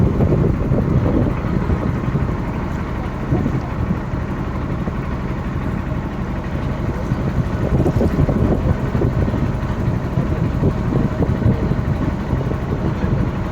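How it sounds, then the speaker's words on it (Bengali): A sand-carrying trawler boat's engine runs on a river, a loud, steady, rough mechanical drone heard close by and unbroken throughout. "এটা ট্রলার এটা বালি টানে"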